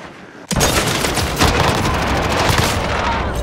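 Grenade blast followed by gunfire in Modern Warfare 2019, a sudden loud boom giving way to dense, continuous shooting and rumble close by.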